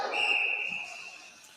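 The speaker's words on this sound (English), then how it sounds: "Whistle blowing for icing." A referee's whistle during an ice hockey game between the Huskies and Jets blows once for icing, a single sustained shrill tone that fades over about a second and a half amid arena background.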